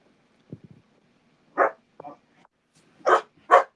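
A Rottweiler puppy gives a few short yips and small barks, scattered and close, in a quiet room.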